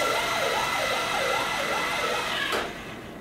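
A wailing siren sweeps up and down steadily over a constant electronic hum, then cuts off abruptly near the end.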